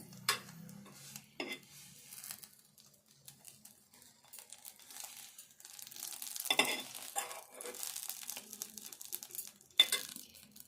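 Fenugreek seeds and cumin fry quietly in oil for a Telangana green chilli pickle, a soft sizzle broken by sporadic scrapes and clinks of a spoon against the pan, with no talk.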